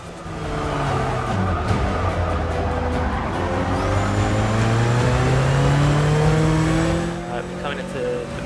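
A rally car engine in a racing video game revs hard and steadily, its pitch climbing and falling through gear changes, loud and close for the whole stretch with faint tire noise underneath.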